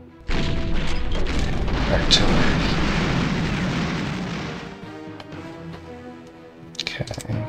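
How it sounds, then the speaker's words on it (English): An artillery strike in Panzer General II during the 1939 Poland scenario: a heavy, loud blast hits abruptly, then a rolling rumble fades over several seconds, with a few faint clicks near the end. "Artillery."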